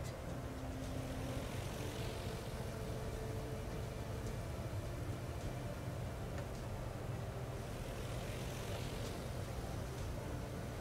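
Propeller engines of dive bomber aircraft in a carrier-battle video game give a steady, faint droning hum with no talk over it.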